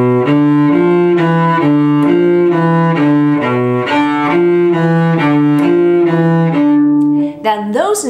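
Cello playing a bluegrass phrase of bowed notes in a steady, even rhythm, sounding close and full for about seven seconds before a brief scrape at the end.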